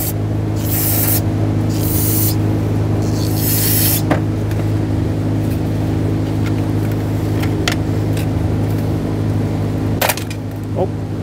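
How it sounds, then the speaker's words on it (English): Several short hissing bursts of brake parts cleaner sprayed into the fuel injector bores of a 2007-2014 Chevrolet Silverado 2500 HD engine, over a steady low background hum, with a few sharp clicks. "spraying a little bit of brake parts cleaner down where the injector goes actually helps."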